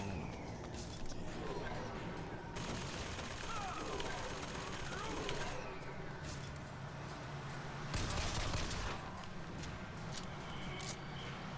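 Gunfire in a first-person shooter on a handheld console, scattered shots and bursts mixed into busy game effects and music, with a person talking over much of it.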